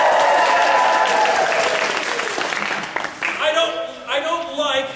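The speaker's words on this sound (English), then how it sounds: "Outburst of applause." Loud applause from a crowd fills the room, then thins out as a voice starts talking over the fading clapping.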